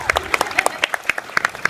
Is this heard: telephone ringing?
no